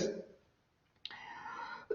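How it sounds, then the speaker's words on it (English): A single deliberate cough demonstrating how to clear an irritated airway, sharp and close, followed by a raspy exhale and a second short cough burst at the end. "you can cough like this"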